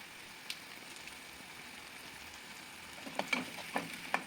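Vegetables sautéing in oil in a pan while salt and soy sauce are added, giving a steady soft sizzle throughout with a few sharper crackles and stirring clicks near the end, no voices.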